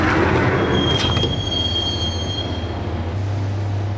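A subway train ride in the Max Payne video game, a steady rumble of railcars with a high squealing of wheels on the rails that fades as a low hum rises near the end, no voices.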